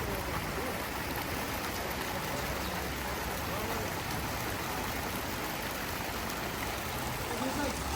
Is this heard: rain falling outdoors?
yes